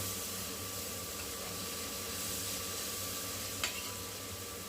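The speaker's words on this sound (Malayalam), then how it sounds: "മുക്കാൽ ടീസ്പൂൺ മഞ്ഞൾപ്പൊടി ചേർത്ത് കൊടുക്കണം ഇളക്കി യോജിപ്പിക്കുക" Turmeric stirred into browning pepper chicken masala in a pan gives a steady low sizzle and hiss throughout, with one brief scrape of the spoon near the end.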